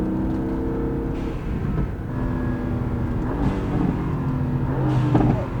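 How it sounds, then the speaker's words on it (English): A Mercedes-AMG GT on a stock exhaust with added blow-off valves rumbles and revs on a race track, its low engine drone broken by a few sharp exhaust pops and bangs, loud and close. "It does, for a stock exhaust, pops, bangs, it still sounds amazing."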